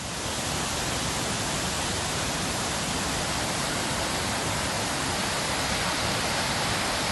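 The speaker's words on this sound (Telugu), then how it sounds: "తెలంగాణ నయాగారా బొగత జలపాతం జోరుగా ప్రవహిస్తోంది" Bogatha waterfall in Telangana's forested hills, swollen by recent rains, roars in a loud, steady, unbroken wash of rushing water with no voices.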